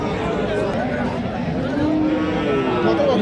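Sahiwal cow and calf at a cattle market, with a long, drawn-out moo rising over steady crowd chatter and background bustle throughout.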